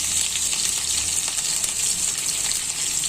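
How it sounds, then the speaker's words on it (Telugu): Green chillies and onions frying in a pan, a steady bright sizzle that runs unbroken and fairly loud throughout, with no talk. "పచ్చిమిర్చి కూడా వేసుకున్నాక వేగుతున్నప్పుడు ఉల్లిపాయ వేసేసేయాలి."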